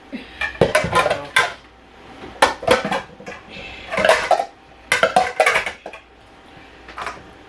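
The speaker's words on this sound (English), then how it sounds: "Hubby bought me this set of bowls." Ceramic bowls from a newly bought set clink and knock against each other as they are handled in a home kitchen, a series of close, bright clatters in uneven bursts with short pauses between.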